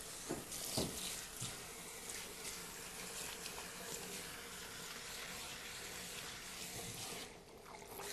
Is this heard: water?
yes